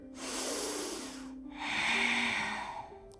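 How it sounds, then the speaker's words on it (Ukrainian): Deep, slow breathing during yoga boat pose, heard close up as two long airy breaths in succession. "Вдих."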